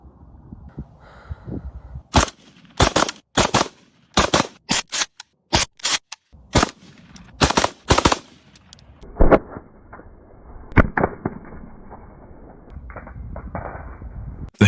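Shots from a .50 caliber rifle: a rapid, irregular series of sharp, loud cracks for several seconds, then a few scattered reports over a quieter, noisy tail.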